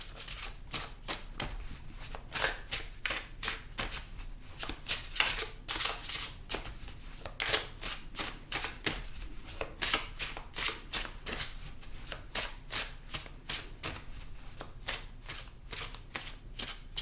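Tarot cards being shuffled by hand in a steady run of crisp riffling bursts, close and moderately quiet, with no talking.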